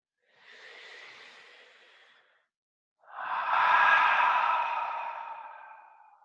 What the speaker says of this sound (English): take a full breath in. Long breath out.